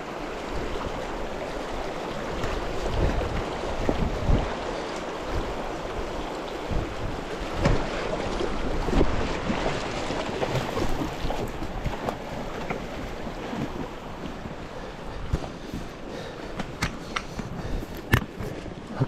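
Horses splash through a creek crossing during a Colorado elk archery trip, water churning and rushing with scattered knocks and splashes over a steady flowing wash, no talk.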